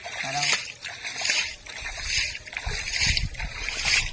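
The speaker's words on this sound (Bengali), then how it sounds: "এধারে জল ছেঁচা হচ্ছে" Water is scooped and bailed out of a pond hole by hand while fishing, with repeated rough splashes and sloshes close by over a muddy outdoor background.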